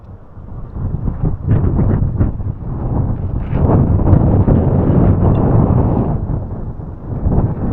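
Strong wind buffets a winter storm campsite beside a sheltering boulder, a loud continuous low roar with gusts that swell and ease, heaviest through the middle, with no talk.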